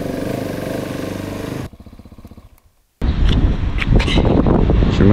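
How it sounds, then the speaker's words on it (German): Motorcycle engine rumbles close and loud while riding, then drops to a stuttering idle, falls briefly silent, and returns as a gusty roar with wind buffeting the microphone. "wir fahren Motorrad"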